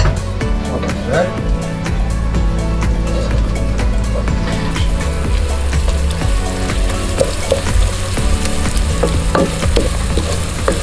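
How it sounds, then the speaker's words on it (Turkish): Minced meat sautéing with onion in a pan: loud, close sizzling with scraping stirring strokes throughout, while people talk over the cooking. "Bunu da kavuruyoruz soğanla birlikte."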